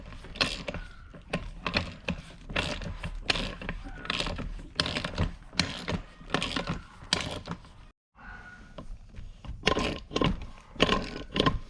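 A bead cheater tool being tightened down on a Yamaha Rhino UTV tire, a close, steady series of clicking, ratcheting mechanical turns with one brief pause and no voices.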